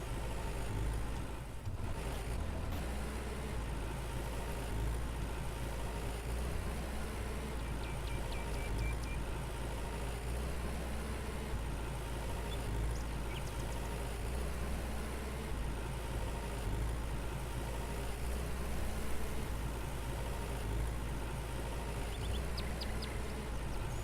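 A tractor engine in the Farmer's Dynasty farming game drones steadily at a low pitch throughout while seeding lupine in a field, quiet and continuous with no talk.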